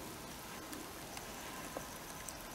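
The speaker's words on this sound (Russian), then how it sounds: "пошел дождик" Light rain falling on a vegetable garden in late May, a soft, steady hiss of drops with occasional faint ticks of individual drops landing nearby, quiet and continuous.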